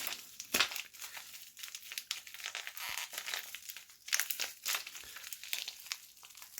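Packaging around visors being unwrapped: close, quiet crinkling and crackling of wrap material in irregular bursts and rustles, with brief sharper tearing-like crackles, no talking.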